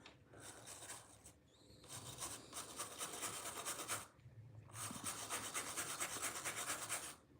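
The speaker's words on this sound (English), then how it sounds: "let me give this a good scrubbing with the brush" A stiff brush scrubs fossil-bearing rock in close, steady rasping strokes, broken by two short pauses.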